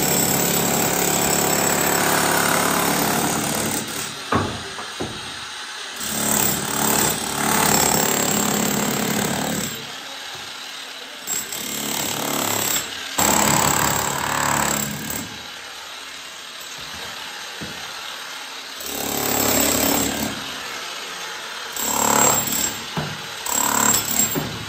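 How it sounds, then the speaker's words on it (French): A jackhammer breaks concrete during a home renovation, pounding loudly in long sustained bursts separated by short pauses, with no talk over it. "Tu es en train de faire du marteau-piqueur."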